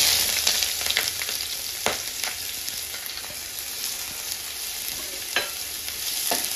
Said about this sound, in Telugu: కొంచెం ఫ్రై అవ్వాలి. ఆనియన్స్ అయితే ఫ్రై అయిపోయింది.